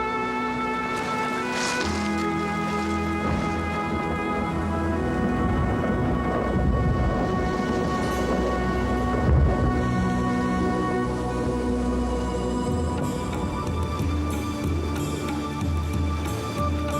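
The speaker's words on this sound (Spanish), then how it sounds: "Esperemos a que la tormenta pase." A thunderstorm with steady heavy rain rumbles on, low thunder rolling beneath a constant dense hiss of rainfall, loud and continuous throughout with no speech.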